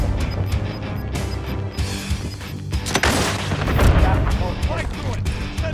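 Rapid gunfire and booming blasts in the online shooter Call of Duty Warzone, dense and continuous with bursts swelling loudest midway, heard under excited players' voices.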